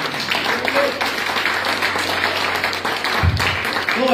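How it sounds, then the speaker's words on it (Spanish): Church congregation applauding during an evangelistic service, loud steady clapping mixed with voices and cheering, with a low hum underneath and a brief thump near the end. "Denle un fuerte aplauso."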